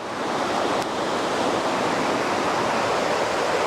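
A river beside a campsite near Mount Baker, Washington, rushes in a steady broadband wash, close and fairly loud, with no voices.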